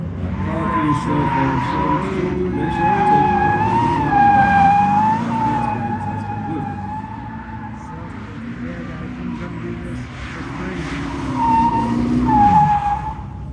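At the Mecum Kissimmee auction car show, a car is driven around a track with loud, long wavering tire squeals over a heavy engine rumble, swelling again toward the end.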